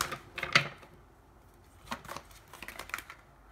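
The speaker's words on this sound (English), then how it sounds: "One more shuffle." Tarot cards shuffled by hand during a reading, giving a few quick crisp riffling bursts near the start and again later, close and fairly faint, with no talking over them.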